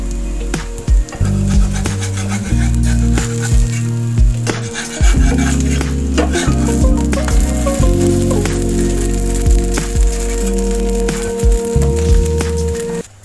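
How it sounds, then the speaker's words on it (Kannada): Rice dosa batter sizzling on a covered hot pan, a continuous crackle with scraping and clattering of a lid or utensil, close and fairly loud, no talking. "ದೋಸೆ ಹೊಯ್ತಿದ್ದೇನೆ. ಮುಚ್ಚಿ ಬೇಯಿಸಬೇಕು."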